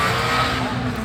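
Ferrari Enzo supercar driving past at a supercar festival, a loud steady engine roar filling the whole short moment, with people talking over it.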